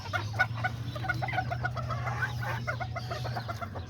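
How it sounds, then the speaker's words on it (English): Chickens and roosters kept in a backyard pen cluck steadily and close by in overlapping bursts, with a constant low hum beneath the flock and no voices. "there's the little chicken right here"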